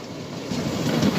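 A model railway train runs along the track of an exhibition layout, a soft, continuous rolling rumble with faint clicking that builds slightly toward the end, with no voices.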